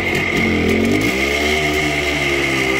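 A cold engine on a GAZ Gazelle van, with a fault in the fuel mixture, revs roughly and loudly, then settles back to a steady, uneven mid-pitched idle drone.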